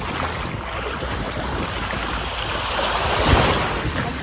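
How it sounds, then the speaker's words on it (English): Ocean waves roll onto a Bahamas beach as a steady, loud wash of surf with wind noise on the microphone, swelling slightly near the end, with no voices. "Beautiful blue sea."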